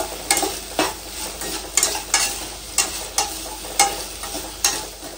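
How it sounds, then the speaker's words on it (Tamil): Okra frying with salt in a pan, a steady sizzle punctuated by regular scraping stir strokes about once a second, close and fairly loud with no voices. "வெண்டைக்காய் வந்து பாத்தீங்கன்னா நல்லா கலர் சேஞ்ச் ஆகுற அளவுக்கு வறுத்தாச்சு ஃப்ரெண்ட்ஸ்"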